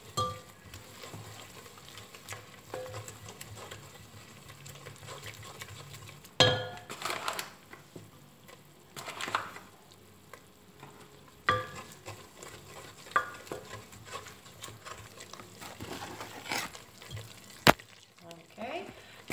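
Flour and margarine are stirred together in a pan for a Greek moussaka sauce, giving soft scraping and faint sizzling with a few sharper clinks of the utensil against the pan, quiet and close.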